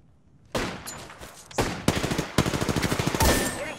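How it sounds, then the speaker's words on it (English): Video game gunfire: after a short quiet start, close and loud rapid automatic bursts follow one another in quick rhythmic volleys, with no talking. "Getting shot at."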